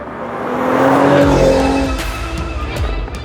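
A Cadillac CT5-V Blackwing V6 engine revs up loudly with a rising, throaty roar, then settles into a rumbling, crackling idle as the car passes close by.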